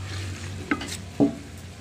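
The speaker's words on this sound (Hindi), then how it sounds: "बस इसको ऐसे भून के नीचे उतार लेना है।" Beef frying in ghee is stirred in a pan, giving a low steady sizzle with two brief scraping clinks of the spoon against the pan, heard alone at close range.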